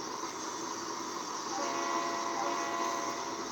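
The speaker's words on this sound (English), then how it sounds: "I have a passenger train that I need to get back into Lilydale" Steady rumble and hiss of a passenger train running in the Trainz simulator, a constant mechanical roar with a faint horn-like tone sustained throughout, with no voices.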